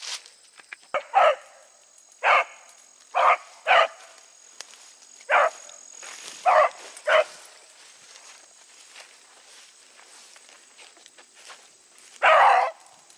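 A hunting dog chasing rabbits through thick brush lets out about nine sharp, separate barks at irregular intervals, moderately close, with quiet rustling between them.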